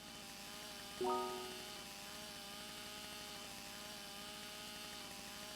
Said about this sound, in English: And I'm gonna pull out my chainsaw.